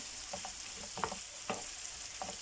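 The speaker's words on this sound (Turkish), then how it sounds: "Kavurmaya devam edelim" Vegetables sauté in a hot pan for a filling for stuffed bazlama flatbread, with a steady frying hiss and a few short scrapes and clacks of a spoon stirring against the pan.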